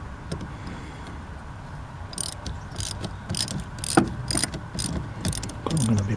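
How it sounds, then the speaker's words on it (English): A ratchet loosens fasteners on a 1989 Ford Ranger with a 2.9L V6, a quick series of close metallic clicking bursts growing busier toward the end over a low background hum. "I find that it's easier to just use a dang ratchet"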